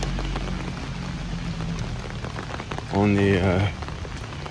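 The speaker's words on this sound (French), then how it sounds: "Il pleut." Steady rain falls outdoors at midday, a constant hiss of drops on surfaces throughout, with a person's voice speaking briefly over it near the end.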